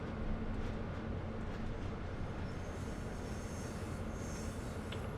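An SW1000R diesel switcher locomotive runs in Train Sim World on the Northeast Corridor, giving a steady, continuous engine rumble with rail noise at a constant loud level, with no voices.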